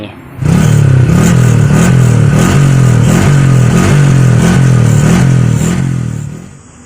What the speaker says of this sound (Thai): เดี๋ยวมาฟังเสียงท่อรถผมนะครับ ทางออกผมก็ขยายใหม่